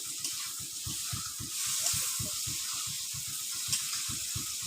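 Prawns sizzling in a pan of hot oil or water, a steady close crackle and hiss with fast irregular pops running throughout, no voices.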